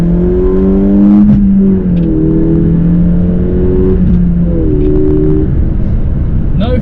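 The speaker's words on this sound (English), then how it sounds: "Just a genuine, sonorous and brutal exhaust." A Peugeot RCZ sports coupe exhaust revs loudly, its deep throaty tone rising and falling through repeated throttle blips, close and continuous, with no pops or crackles.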